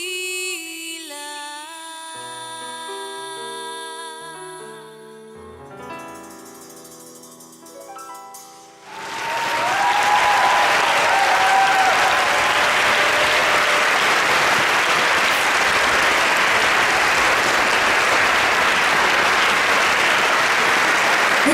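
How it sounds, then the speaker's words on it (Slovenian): Concert audience breaks into loud, sustained applause right after music fades out, a dense wash of clapping filling the hall for many seconds. "Bitte še velik aplavz za moj band."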